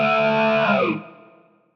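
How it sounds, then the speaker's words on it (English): A distorted rhythm guitar chord played through a TalkBox formant block on a Fractal FM3, FM9 or Axe-FX III rings with a vowel-like, mouthy tone, then fades out. "completely formant block, completely TalkBox on a rhythm sound is like this"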